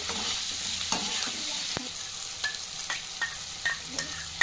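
Marinated chili chicken is stirred in a frying pan, giving a continuous loud sizzle with a series of clicking spatula scrapes, more frequent toward the end.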